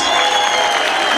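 An audience at a freestyle rap battle final claps in a dense, continuous wash of applause, loud and steady throughout with crowd noise mixed in.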